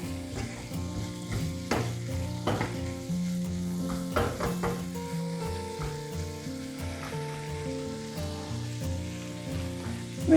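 Tuna dry fish curry with chilli powder stirred in a pan, a steady close sizzle with repeated scraping and clinking of the spoon against the pan throughout.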